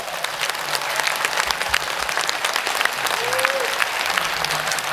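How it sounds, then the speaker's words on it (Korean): Sustained, dense audience applause at an outdoor special concert at an anti-aging expo in Hamyang, loud and continuous throughout with crowd noise. "박수 한번 주세요."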